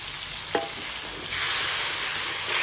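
Water added to a sizzling pan of stir-fried tilapia with celery, a sharp clank followed by a sudden surge of loud, steady frying hiss that holds to the end.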